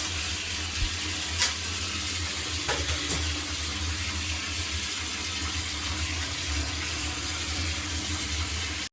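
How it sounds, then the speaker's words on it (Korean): Steady fizzing and bubbling of hot water with sodium percarbonate cleaner as a range hood soaks in a bathtub, a continuous soft hiss with a low rumble underneath and a couple of faint clinks. "보글보글 소리가 나고 찌든 때가 벗겨 있는 것이 보여요."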